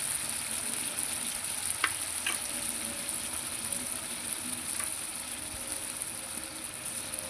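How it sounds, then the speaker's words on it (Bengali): Turmeric and ground cumin, ginger and green chilli paste fry in a pan with a continuous hiss and sizzle, a few faint stirring clinks breaking through the steady noise. "এবার আমি ভালো করে কষাবো"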